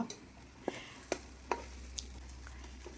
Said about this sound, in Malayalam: നെയ്യ് ചൂടാകുമ്പോഴത്തേക്ക് ഈ ഉലുവ അതിൽ തട്ടി നല്ലതുപോലെ ഇളക്കുക